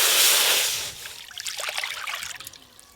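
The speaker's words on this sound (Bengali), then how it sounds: "ওপর দিয়ে ছোলার ডালে একটু ঘি দিয়ে দেব, জল," Water poured onto chana dal in a pan, opening with a bright hissing rush that then thins into softer trickling and bubbling splashes, close and moderately loud.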